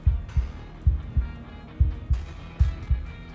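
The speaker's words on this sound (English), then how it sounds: "that heartbeat is very loud" A loud heartbeat thumps in paired lub-dub beats, four pairs in steady rhythm, from a video game about slaying a princess, heavy and close with a faint background hum and no talk.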